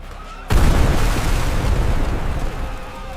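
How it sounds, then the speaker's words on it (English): A close explosion erupts in a 1916 First World War trench, a sudden heavy boom after a quiet moment that rumbles on loudly and steadily to the end. "That explosion was close, much closer than I expected."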